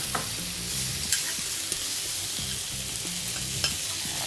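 Vegetables and small pieces of butter sizzle and fry in a pan over low heat, a soft constant crackle broken by light stirring scrapes and taps, with no voices.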